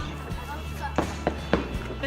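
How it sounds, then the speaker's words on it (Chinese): New Year fireworks burst as a few sharp, moderately distant bangs in quick succession under people chatting nearby. "我要拍烟火"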